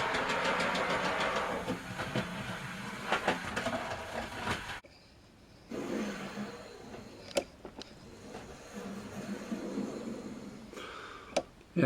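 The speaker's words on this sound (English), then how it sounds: "That's the track cleaner working." A Gauge Master track cleaner runs on a 00 gauge model railway layout in a loft, giving a small motor whirr and rail clatter that stops abruptly partway, followed by quieter rumbling and a few sharp clicks.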